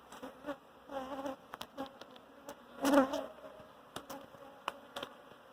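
Honey bees buzz around an open hive during a frame inspection, a steady insect drone with louder swells as bees fly close, plus occasional handling clicks.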